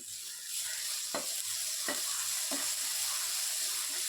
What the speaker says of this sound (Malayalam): ഇനി ഇതിലേക്ക് നമുക്ക് ഒരു മീഡിയം സൈസ് തക്കാളി ചെറുതായിട്ട് അരിഞ്ഞതിട്ട് ഇളക്കി യോജിപ്പിക്കാം